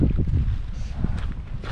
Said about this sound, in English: Got a little bit of wind blowing